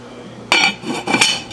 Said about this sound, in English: So we're gonna put the lid on that and let that cook real good.